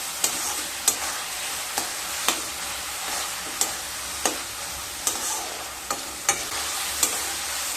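Pumpkin greens with shrimp, sugar and mustard oil get stirred in a pan, a soft continuous sizzle punctuated by a regular series of sharp spoon knocks against the pan, about ten in all; no talking.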